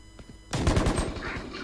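Rapid bursts of gunfire from the Valorant shooter game, a loud rattling volley of close shots that starts abruptly and continues with a fading echo.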